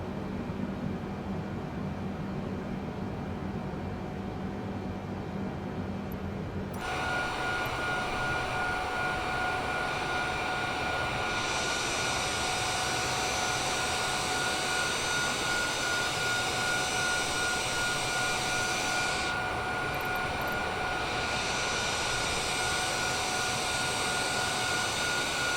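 Boeing 787 Dreamliner jet engines in Microsoft Flight Simulator 2020, a steady broadband roar with a faint high whine that swells louder after the first few seconds and holds continuously.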